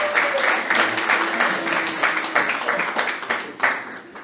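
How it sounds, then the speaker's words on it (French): Church congregation applauding in a steady burst of clapping for a few seconds, fairly loud and close, with a voice faintly under it. "On peut applaudir pour Gemaël."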